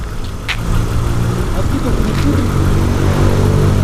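A car engine idles and revs low and steady as the driver rolls toward a pedestrian on a sidewalk, with a person talking over it throughout.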